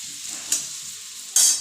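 Food for fried rice frying in a pan gives a faint, steady hiss that flares twice into louder sizzling bursts as it is stirred, close by and without talk.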